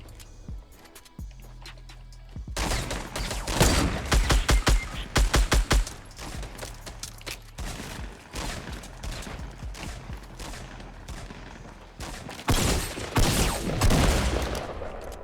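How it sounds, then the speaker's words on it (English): Bursts of rapid gunfire in the Fortnite Battle Royale video game, several volleys of sharp shots crackling close by with brief gaps between them, and a heavy sustained fusillade near the end. "Wait, who's shooting?"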